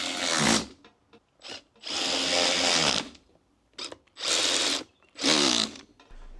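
A power tool drives bolts back in on a vintage Honda in four or five loud, close bursts of high whirring, separated by short pauses and small clicks.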